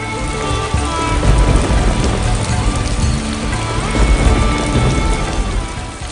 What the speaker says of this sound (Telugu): అలా భయంకరమైన వర్షంలో గోవిందయ్య అడవికి బయలుదేరుతాడు